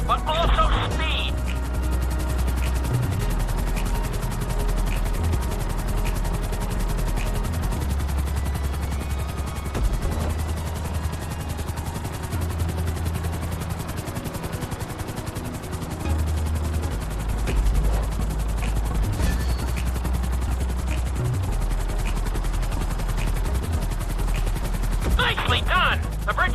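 Helicopter in Grand Theft Auto V flying a marked course: a loud, steady rotor and engine drone fills the whole stretch, with low thumping pulses and game sounds layered over it.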